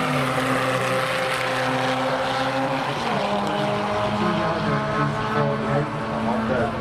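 Turbocharged Honda Civics race side by side at a Santa Pod drag strip, a loud, constant engine roar that shifts pitch partway through, heard from trackside.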